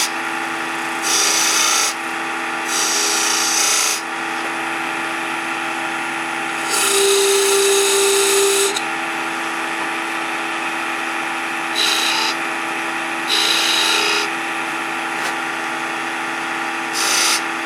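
A Bedan-style parting tool makes a point cut into spinning wood on a lathe, giving a steady scraping hum broken by several short, brighter bursts of cutting as the tool engages the wood.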